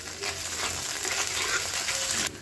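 Chicken momo filling with chopped green chili, ginger-garlic paste, garam masala paste and tomato sauce stirred in a frying pan, a steady soft sizzle with light scraping of the spoon, ending abruptly.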